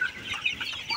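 Sonali chickens on a farm cluck and squawk in a dense, continuous jumble of calls, fairly close and busy throughout.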